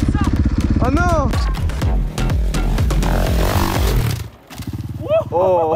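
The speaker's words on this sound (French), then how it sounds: "T'as calé en l'air et du coup, paf, le moteur s'est redémarré à la réception." Motocross bike engine revving hard while jumping, cutting out briefly mid-air and roaring back to life on landing, loud and close, with clattering and voices talking over it.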